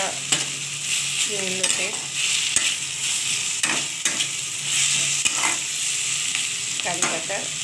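Curry with tomato paste frying in a pan, a continuous loud sizzle with repeated stirring scrapes and clicks of a spoon, and a brief spoken comment partway through.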